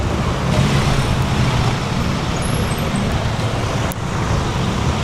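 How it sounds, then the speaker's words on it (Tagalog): Heavy roadway traffic rumbles steadily with deep engine drone from large vehicles such as tow trucks, a continuous close wash of road noise with no talking. "Ayan na yan, andyan yung mga tow truck, andyan yung mga tow truck."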